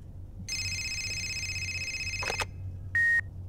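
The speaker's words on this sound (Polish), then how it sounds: "Telefon!" A telephone being dialed in the video game Fahrenheit: a sustained electronic tone, then a brief cluster of clicks and a single short, loud beep near the end, with no talk.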